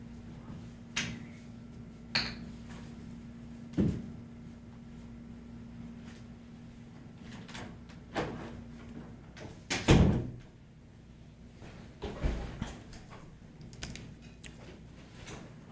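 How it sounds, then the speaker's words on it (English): An indoor door closes with a solid thud among scattered knocks and clicks, a low steady hum running underneath throughout. "I realize I can just close this door now."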